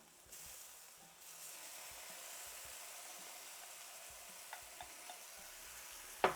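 Eggplant frying in a pan sends up a faint, steady sizzle and hiss that holds throughout, broken by a few light ticks and clinks near the end.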